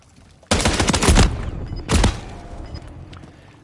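Rapid gunfire in the video game Call of Duty: Modern Warfare 3 (2023): a dense, loud burst of shots lasting about a second, then a shorter second burst, trailing into a decaying echo with no talk.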